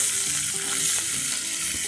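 Potatoes frying in hot mustard oil with asafoetida and cumin, a steady close sizzle with a brief stir, no talk.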